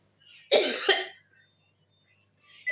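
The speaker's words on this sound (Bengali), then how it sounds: "আমার কাশি হচ্ছে ভীষণ পরিমাণে মানে সেই অ্যালার্জি হলে যে কাশিটা হয় না" A woman's allergy cough: a close, sharp double cough burst followed by quieter throat sounds in an otherwise quiet room.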